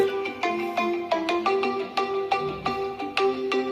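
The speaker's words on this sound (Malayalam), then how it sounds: "ജസ്റ്റ് ആ പ്ലേ സൗണ്ടിലേക്ക് ക്ലിക്ക് ചെയ്ത് കഴിഞ്ഞാൽ ഈ ഫോൺ റിങ് ചെയ്യുന്നുണ്ട്" A smartphone ringing after the play-sound option is triggered from a phone-finder feature, a repeating melodic ringtone with bright plucked notes in a quick, steady pattern, moderately loud and alone.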